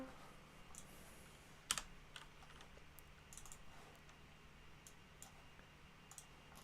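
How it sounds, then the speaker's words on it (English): Typing on a computer keyboard in a home studio, with faint scattered key clicks and a sharper burst of clatter near the start, all quiet with no talk. "I've literally got my actual keyboard here, it's not a piano keyboard."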